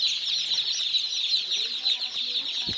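Dense chirping and clucking from many small chicks fills the space continuously, a busy high-pitched chorus with a brief thump near the end.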